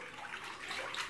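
Bathwater is stirred by hand into waves around a floating toy, giving a continuous soft close-up splashing and sloshing with no voices.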